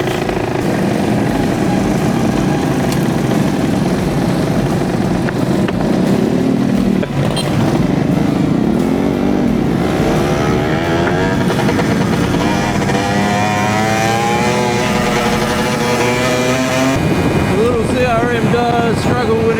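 A small motorbike cruising along a rural road, its engine drone steady and close with rising and falling pitch as it shifts through gears, wind buffeting the microphone throughout.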